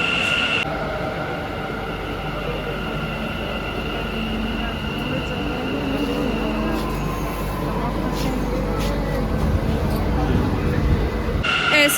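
A metro train rumbles loudly through a station, a steady roar of wheels and motors with a high whine, and people talking under it.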